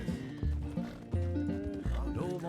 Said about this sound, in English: Do we have anything to feed our horse with?